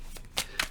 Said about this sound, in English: I'm going to give them one more spin through.